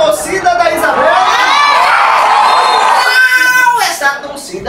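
A crowd of children cheers loudly for one contestant at a game show, shrill shouts and whoops held for several seconds, then tapering off into scattered cries.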